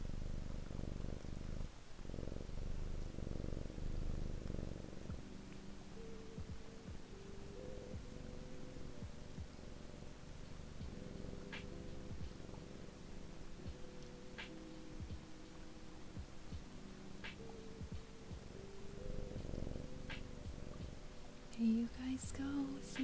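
A cat purring steadily while being petted, close and soft in a quiet room, a continuous low rumble with faint rustles and small ticks over it.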